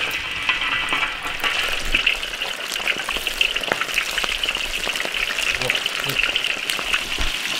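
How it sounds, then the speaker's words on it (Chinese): Small fish deep-frying in hot oil in an iron wok give a loud, steady sizzle with dense crackling pops running throughout, close up and without talk. "把那个刁子鱼给它炸熟"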